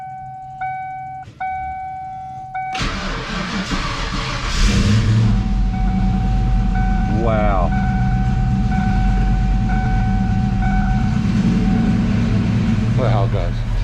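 After a jumpstart with a Lokithor JA300, a car that sat unstarted for two years cranks and catches, then settles into a steady idle with a whining tone on top; a voice exclaims briefly near the start.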